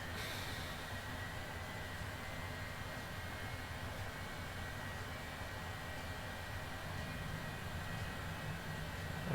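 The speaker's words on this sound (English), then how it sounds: "Engine should fire up." Cessna Longitude jet engine starting in Microsoft Flight Simulator 2020, a steady low turbine whine and rumble held at an even moderate level, with no talking.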